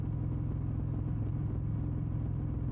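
A motorcycle engine on a night road ride holds a steady, dense low drone, loud and unbroken from start to finish with no voices.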